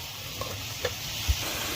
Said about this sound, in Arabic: نحمر بقى الشعريه بتاعتنا تاخد لون ذهبي.